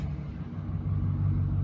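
A 2013 Chevy Silverado 1500 V8 idles smoothly, giving a brief, steady low rumble heard up close.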